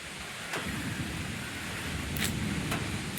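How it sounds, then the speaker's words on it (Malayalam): Evening rain falls outdoors under a dark, overcast sky, making a continuous broadband wash of hiss with a few brief gusty swells. "ഇതാ മഴ മഴ മഴ പെയ്യുന്നുണ്ട്"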